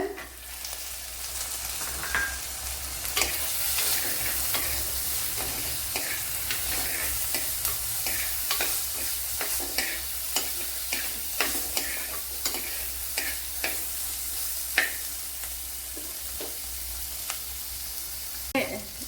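Tomatoes for a Kerala-style sardine curry fry in a pan, a steady sizzling hiss punctuated by regular sharp clicks and scrapes of a spoon stirring, close and continuous.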